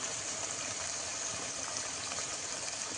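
Spiced water poured into a pan of pangas fish curry makes a steady, faint rushing hiss that runs unbroken, with no voices.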